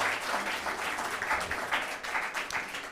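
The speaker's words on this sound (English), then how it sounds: "can I have a round of applause for these two lovely people here?" A short, steady round of applause from an audience at a genocide memorial seminar after an opera performance, dense and even, with no voices over it.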